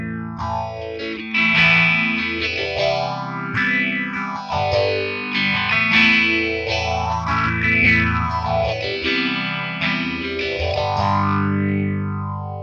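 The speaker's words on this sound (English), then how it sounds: "so I can put on a phaser." Distorted electric guitar chords through a Boss ME-90 phaser effect, the tone swirling up and down in slow repeating waves, loud and sustained.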